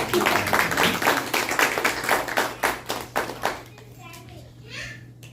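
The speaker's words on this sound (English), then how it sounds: "So, okay, we can clap for that." A group in a spiritual class claps as a crowd for several seconds, loud at first, then thinning into separate claps before fading out. Some voices carry underneath.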